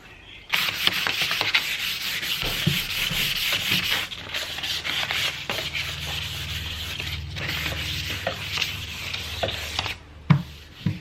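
Fine 600-grit sandpaper rubs back and forth over painted furniture, a steady close scratchy hiss that runs nearly unbroken, with brief pauses and a light knock near the end.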